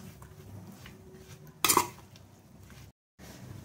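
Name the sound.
stirring roti oggarane in pan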